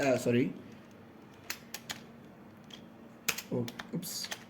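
Quick bursts of typing on a computer keyboard while HTML code is entered, faint scattered key clicks with short pauses between them, and a brief voice at the start and again near the end.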